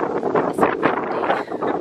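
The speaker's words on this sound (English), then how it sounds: "It's windy out here." Wind gusts buffet the microphone outdoors at a holiday villa pool area on Paxos, Greece, a rough, rumbling rush that swells and fades in uneven bursts.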